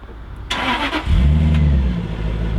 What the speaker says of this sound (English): So let's hear how my Jaguar XJ8 sounds.